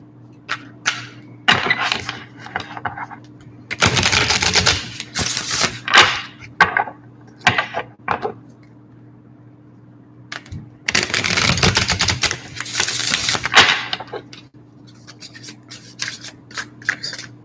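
An Archangel Metatron oracle card deck being handled and shuffled, crisp papery flicks and riffles in bursts, including two longer dense shuffling runs, close and clear over a steady low hum, with no talk.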